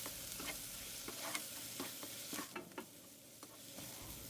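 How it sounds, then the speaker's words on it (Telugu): Ivy gourd (tindora) masala with chili powder and curry leaves fries in a pan, a soft steady sizzle broken by scattered scrapes and taps of a stirring spoon, close up and quiet with no talking. "తర్వాత అంతా బాగా కలిపేసుకొని మూత పెట్టేసి ఇంకొక 10 నిమిషాలు ఫ్రై అవ్వాలి."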